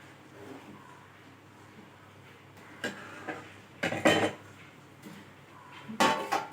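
A metal ladle clinks and scrapes inside a pot while stirring red rice flour mixed with hot water, giving a few sharp knocks that grow more frequent toward the end against quiet kitchen background.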